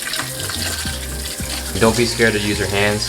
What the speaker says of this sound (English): Gonna rinse them for a little bit, give them some cold water.